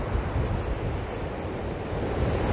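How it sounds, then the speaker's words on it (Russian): Cold wind at the Baltic Sea shore roars steadily and loudly in a broad, constant rush with heavy low buffeting on the microphone, mixed with surf, and no voices. "Но ветер."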